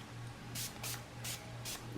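Brilliantine Shine Glossing Spray misted onto a lace wig: four short, soft hissing bursts in an even rhythm, quiet and close, over a faint steady electrical hum.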